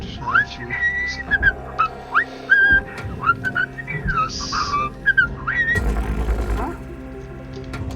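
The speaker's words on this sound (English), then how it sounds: "Who's whistling?" Whistling in the space salvage game Hardspace Shipbreaker, a series of short rising and falling melodic tones repeated in irregular bursts over low mechanical hum and other game sounds.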